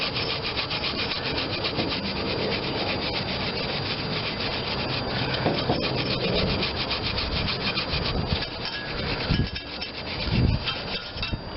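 Stiff brush scrubbing back and forth over the aluminum head of a Briggs and Stratton 21M314 engine, a continuous dense rubbing scratch with a few heavier knocks near the end, close and loud with no talking.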